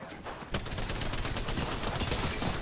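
Rapid automatic gunfire from an Apex Legends match erupts after a brief quiet moment and continues as a dense, loud burst of shots for the rest of the clip.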